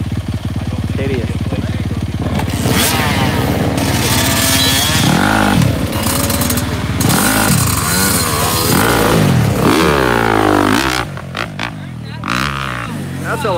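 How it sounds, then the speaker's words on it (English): A motocross bike is ridden on a track during a training session, its engine roaring loudly and continuously with rising and falling revs throughout, close by, with people talking over it. "That's a loud bike right there."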